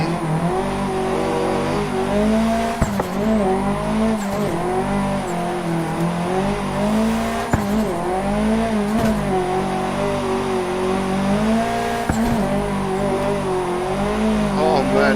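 Simulated Nissan S14 Silvia drifting in VR Assetto Corsa, its engine holding a loud, steady wavering drone with rising and falling revs and brief tire squeals, continuous for the whole stretch, with someone talking over it.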